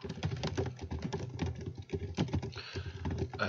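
Answers are typed on a computer keyboard in a quick, steady stream of close, light key clicks and patters for several seconds, with no voices.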